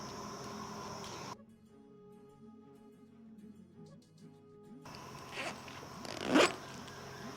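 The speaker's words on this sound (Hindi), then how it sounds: "जमा दियो बैग, 2 जोड़ी कपड़ा रख दिया।" A travel bag packed with clothes is zipped shut, giving a short, close zipper rasp near the end over a steady background hum, with no talking.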